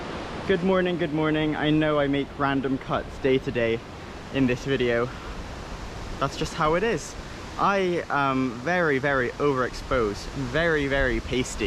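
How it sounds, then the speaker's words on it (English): A fast-flowing stream in Jönköping rushes like a waterfall as a steady broadband roar, heard continuously under close, almost unbroken talking. "You might be able to hear a waterfall in the background."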